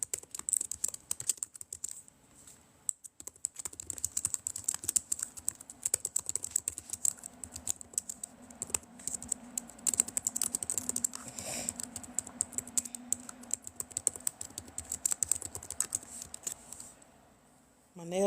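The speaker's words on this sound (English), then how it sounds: "My nails getting long and it's making me mess up on typing." Rapid typing on a computer keyboard with long fingernails, a quick irregular clatter of close, crisp key clicks running for most of the stretch, with brief pauses and a voice speaking in places.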